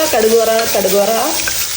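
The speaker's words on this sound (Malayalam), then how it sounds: "ഇവിടെ നമ്മുടെ ബാക്കി ചിക്കൻ വറുക്കുന്നു." Chicken pieces fry in a pan with a steady, close sizzle, while a wavering tonal sound drifts over the frying for most of the stretch.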